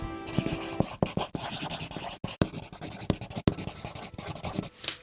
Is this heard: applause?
no